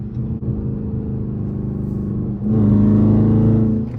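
A Dodge Charger R/T V8 with gutted catalytic converters and no mufflers or resonators idles with a deep, burbling exhaust rumble, then revs up and holds a louder, throaty drone close by.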